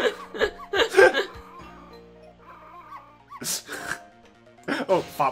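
A dog in the Ghost Trick video game lets out several short, close yips and barks in quick bursts, interspersed with whimpers, alongside talk and chuckling.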